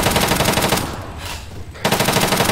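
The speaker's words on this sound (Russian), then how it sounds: "у нас стреляют" Sustained automatic machine gun fire in the military shooter ArmA 3, loud rapid bursts that pause briefly mid-clip before another stream of shots resumes.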